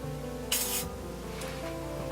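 A short hissing burst from a WD-40 aerosol can, close by, lasting a fraction of a second, then a fainter hiss and a small click.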